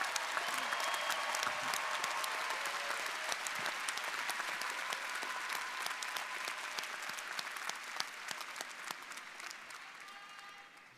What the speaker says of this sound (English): So please give a round of applause to the master's and special degree graduates.